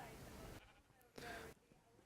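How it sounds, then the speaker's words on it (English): Sheep bleating in the Minecraft video game, two short, faint bleats separated by a brief gap, heard without other sounds. "I've just added some more sheep in here"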